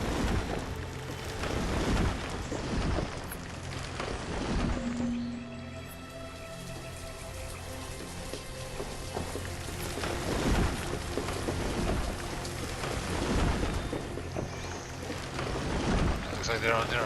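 Steady rain falls in the city-building strategy game Banished, a constant hiss with low rumbling beneath it, fairly loud throughout with a brief softer stretch in the middle.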